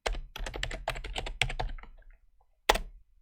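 Rapid keystrokes on a computer keyboard tap out a quick run of about two seconds, pause briefly, then end with one final firm key press, all close and clear with no voices.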